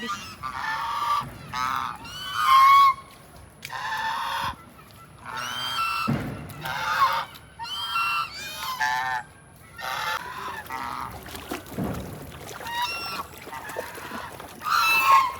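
A flock of waterfowl calls loudly in repeated bursts of nasal honking quacks, close by, with brief pauses between volleys.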